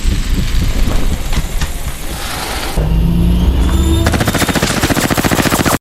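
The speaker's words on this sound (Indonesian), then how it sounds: "terjadi baku tembak di mana David langsung loncat ke dalam rumah dan diberondong puluhan peluru berkaliber besar" Film gunfire from a heavy-calibre shootout: loud, rapid bursts of automatic fire and dense volleys of shots crowd together close up, with a rumbling engine-like roar beneath.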